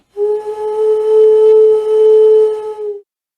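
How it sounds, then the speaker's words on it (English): A single steady, pure-toned whistle blown through cupped thumbs holds for about three seconds, close and clear, then stops. "Sam finally blew through his thumbs and out came a perfect whistle"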